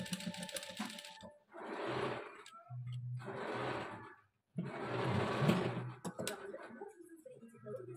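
A domestic sewing machine stitches the end of a fabric bag's edge in three sustained bursts of dense, rapid whirring, separated by short pauses, fairly close and steady.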